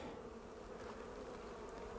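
Honey bees droning steadily at an open hive as a frame is lifted out, a continuous close buzz with no talk.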